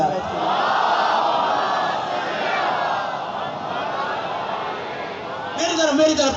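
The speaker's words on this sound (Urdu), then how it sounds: "اتنی بلند صلوات بھی پڑھ دیجیے اہل بیت کی ذات۔" A large congregation at a Muharram majlis in an imambargah loudly reciting salawat together, a sustained, dense wall of massed voices that swells near the end.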